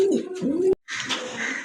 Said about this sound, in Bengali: এক জোড়া কিং কবুতর, অনেক বড় সাইজের কবুতর